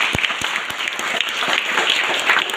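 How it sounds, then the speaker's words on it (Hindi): An audience at a girls' skills event in Barwaha, Khargone, claps for a young woman, a steady wash of applause with a few sharp nearby claps standing out. "मैं चाहती हूँ कि इस बेटी के लिए एक बार तालियां बजा दीजिए"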